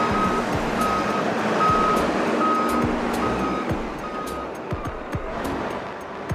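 A large truck rolls slowly through narrow snowy streets, its engine rumbling low and steady beneath a regular string of high reversing beeps; no voices are heard.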